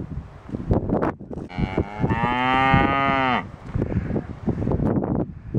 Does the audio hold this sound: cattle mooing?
yes